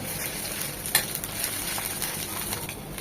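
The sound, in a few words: ginger garlic paste frying with onions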